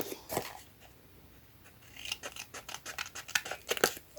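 Scissors snip through a paper envelope pouch close up, a few quiet crisp cuts at first, then a rapid run of sharp snips near the end, with no talking.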